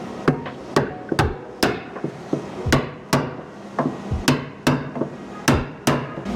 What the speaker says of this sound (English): Gotta do a little hammer time.